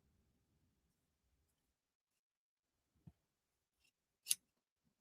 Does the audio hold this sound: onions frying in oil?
no